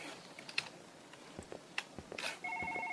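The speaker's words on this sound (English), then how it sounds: "The phone's ringing again." Keyboard typing and scattered taps lead into a telephone starting to ring, a steady electronic warbling tone that enters near the end and continues, in a quiet indoor office setting with no speech.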